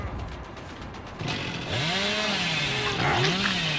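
A video game chainsaw starts up and revs loudly, its engine whine rising and falling in repeated swells after a brief quieter lead-in.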